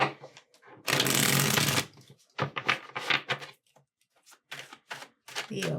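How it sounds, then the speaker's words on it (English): Tarot cards are shuffled close up, one long riffling burst followed by several shorter rapid flutters and slaps of the deck, with quiet gaps between. "We're going to start pulling some tarot cards."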